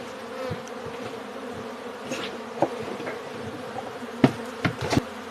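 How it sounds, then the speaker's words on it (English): A crowd of robber bees swarms and buzzes steadily around the spot where a hive was removed from a house, the drone continuous with a few sharp knocks close by. "All robber bees."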